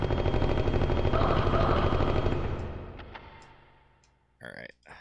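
Rapid gunfire from a weapon in the PS1 game Martian Gothic: Unification, a dense loud burst for about three seconds that fades away, followed by a couple of short sharp clicks near the end.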